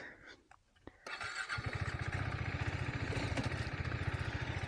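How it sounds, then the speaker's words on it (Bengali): A KTM motorcycle engine fires up after a brief quiet moment and settles into a loud, steady, pulsing running note close by, with no talking over it. "আমি ভাই কেটিএম চালাচ্ছি, আর ওকে দিয়েছি আমার বিএমডাব্লিউ"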